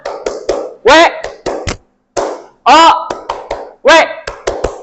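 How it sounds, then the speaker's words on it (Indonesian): Rhythmic group hand claps in short bursts, mixed with loud spoken chant-like voices from a teacher and pupils in a morning classroom greeting routine. "Kayak nanti langsung tepuk tangan."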